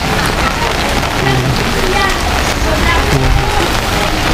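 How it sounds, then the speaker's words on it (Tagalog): Heavy rain pouring down in Potrero, Malabon during a flooding downpour, a loud, dense, continuous hiss of drops on surfaces, close and unbroken throughout. "Pero ganito talaga to dito sa Potrero tuwing umuulan"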